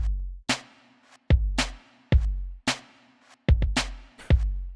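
A produced drum loop plays a booming kick and crisp snare layered with an inverted, reversed-sounding clap, repeating in a steady groove at loud, dry level with no voices.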